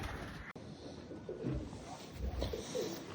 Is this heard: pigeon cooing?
yes